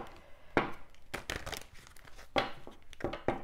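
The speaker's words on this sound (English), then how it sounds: "Just going to give the cards a little bit of a shuffle" Romance Angel oracle cards are shuffled by hand, making several short, crisp papery riffles and slaps in an irregular rhythm, close and fairly quiet with no talking.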